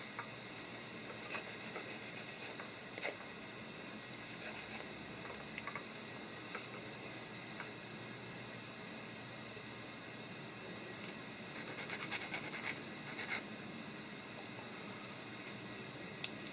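Light sanding of tiny plastic parts from a 1/48 scale F-16 model kit, a soft raspy rubbing in short intermittent bursts, close up and quiet against a steady hiss, with no talking.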